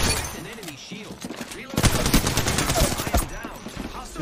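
Video game gunfire, a ranked solo-queue match, bursts into rapid overlapping shots after a quieter opening, continuing dense and loud for a couple of seconds with a voice faintly audible underneath.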